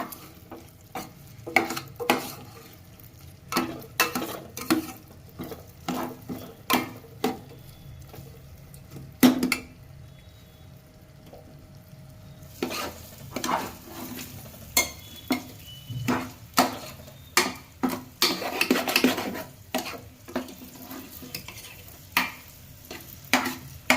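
Cracked wheat roasts in ghee in a pan. A spoon stirs it in regular bursts, scraping and tapping the metal over a soft, steady sizzle, with no voices.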